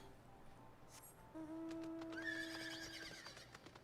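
A horse whinnies in the video game Final Fantasy XIV: a bright, sustained neigh with a rising, quavering tail that sits clearly above quiet game ambience, with light clip-clop and rustle before and after it.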